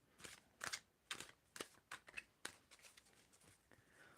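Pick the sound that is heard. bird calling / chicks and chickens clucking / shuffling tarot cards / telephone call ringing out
shuffling tarot cards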